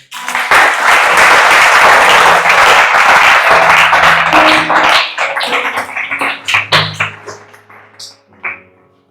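Church congregation applauding and cheering to acclaim the Lord, loud sustained clapping for several seconds that then thins into scattered claps and fades out.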